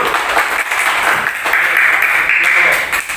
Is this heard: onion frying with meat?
no